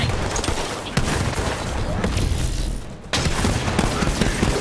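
Sniper rifle shots in the Borderlands 3 video game fight against zombies, dense continuous gunfire and impacts with sharp loud cracks near one and three seconds.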